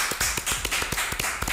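A crowd claps in honour of a comedian's thirty years on stage, a quick run of sharp, distinct claps in an uneven rhythm, close and fairly loud.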